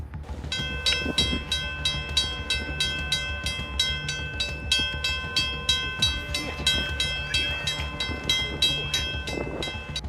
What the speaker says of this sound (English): The train emerges, sounding its horn to warn passing cars, and smashes through the snow barrier